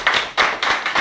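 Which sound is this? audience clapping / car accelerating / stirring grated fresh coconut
audience clapping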